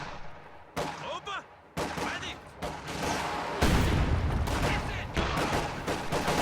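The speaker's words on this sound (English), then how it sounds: "Pack Howitzer firing." A pack howitzer fires in a video game, a string of loud booming shots and rattling gunfire in uneven bursts with a brief lull between blasts.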